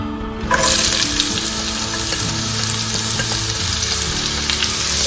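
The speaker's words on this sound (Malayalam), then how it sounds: "അതിലേക്ക് നമ്മൾ ഉള്ളി ഇട്ട് കൊടുക്കുക." Two medium onions, finely chopped, hit hot oil for a Kerala beef fry with coconut milk, bursting into a loud, steady sizzle that continues unbroken, with faint stirring, and no talk.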